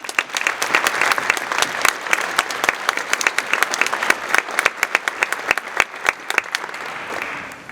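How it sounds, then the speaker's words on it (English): A crowd claps at a National Honor Society and Technical Honor Society induction ceremony, with sharp individual hand claps standing out above a continuous, moderately loud round of applause that thins slightly toward the close. "please join me in thanking them with a round of applause"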